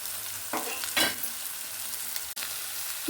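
Green beans hit hot oil in a frying pan for vegetable fried rice, bursting into a loud close sizzle with stirring scrapes, a steady frying hiss between the additions.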